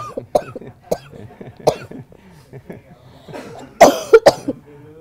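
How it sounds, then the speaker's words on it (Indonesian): Several short coughs come in bursts, with a louder cluster of harsh coughs toward the end and a few fainter vocal sounds between. "Saya yang bicara situ yang batuk"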